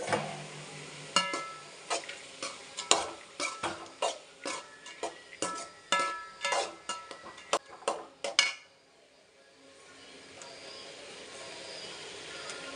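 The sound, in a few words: vegetables sautéing in oil in a pan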